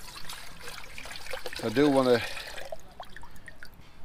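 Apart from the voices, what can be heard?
water being poured to fill up a container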